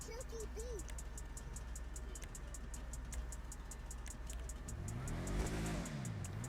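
Video game car with carburetors revving as the throttle opens, a steady engine drone that climbs into a rising, sweeping rev near the end, under a regular ticking beat.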